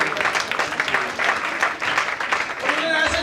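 An audience claps together at a religious sermon for married couples, a steady, dense wash of applause that holds for a few seconds at moderate loudness, with no break in the clapping.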